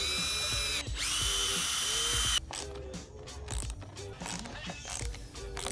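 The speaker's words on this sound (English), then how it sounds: "and then we'll just drill those holes right there" A power drill whirs steadily for a couple of seconds while drilling holes to install a car fire extinguisher, then stops, followed by clicks, clatter and mechanical rattling close by.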